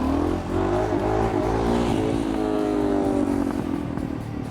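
Motorcycle engine revving hard and steady as the rider tries to lift the front wheel on a bike stripped of its luggage. The roar is loud and close, with a rough, clattering edge, and no one speaks over it.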